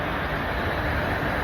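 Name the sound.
train passing by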